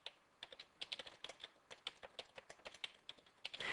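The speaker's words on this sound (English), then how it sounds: "I'm just typing in the commands here" Rapid typing on a computer keyboard as commands are entered, a steady irregular patter of crisp key clicks with a slightly louder burst at the end, close and with no talk over it.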